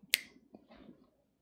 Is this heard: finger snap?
yes